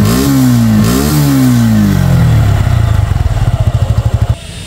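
Black matte Suzuki Gixxer FI ABS motorcycle in like-new condition, its engine revving up and easing down a couple of times close by, then settling into a throbbing idle before cutting off abruptly.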